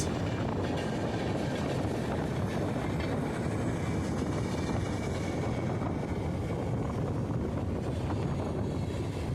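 A Tatanagar–Howrah Steel Express crosses a bridge near Bagnan, heard as a steady, fairly faint broadband rumble that holds evenly throughout, mixed with wind noise on the microphone.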